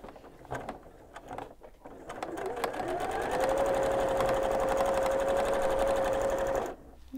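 A sewing machine stitches a rib cuff onto a sleeve, running straight over pins, close and steady with a rising mechanical whir that starts up, holds a constant drone for several seconds, then stops abruptly.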